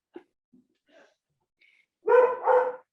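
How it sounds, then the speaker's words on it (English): Dogs bark at a service gathering: two loud, close barks in quick succession near the end, after a stretch of near silence with a few faint small sounds. "And the dogs are loud."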